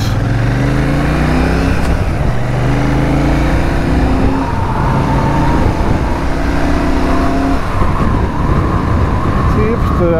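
A Royal Enfield Shotgun 650 motorcycle pulls away under steady, linear acceleration, its engine note climbing in smooth stepped rises through the gears, loud and close amid constant road and wind rush.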